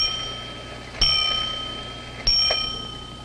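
A 17th-century Dutch mechanical clock chimes twice, each bright metallic strike ringing out and decaying slowly, close and clear in a quiet room.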